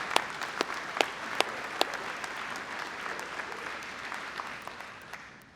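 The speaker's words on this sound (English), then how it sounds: "Let's give all of our family and friends who supported us here today a big round of applause" Crowd applause rings out at a graduate commencement ceremony, a dense clapping wash with sharper individual claps standing out early, then fading away toward the end.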